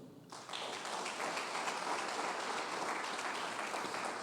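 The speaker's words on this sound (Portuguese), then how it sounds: "Palmas para o Senhor." A church congregation breaks into applause after a preacher's call, steady dense clapping that starts abruptly and carries on evenly, filling the room at moderate distance.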